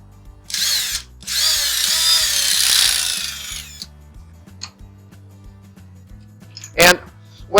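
A handheld power drill whines loudly in two bursts as it bores holes into pieces of wood to mimic worm or beetle holes, close up, followed by quieter clicks and a short squeal, over a steady low background hum.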